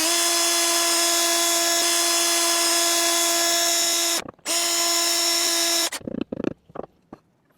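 A power tool cuts a Japanese knife blade to length on a boat, giving a steady high-pitched whine for several seconds. It breaks off briefly, resumes, then winds down into a few short bursts and clatters.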